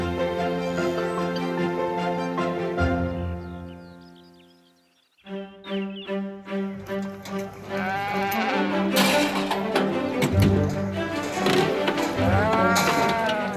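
A flock of sheep of various breeds bleat loudly and repeatedly nearby at the Masham Sheep Fair, overlapping calls rising and falling amid a busy, crowded background.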